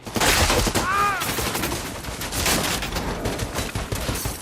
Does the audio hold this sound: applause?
no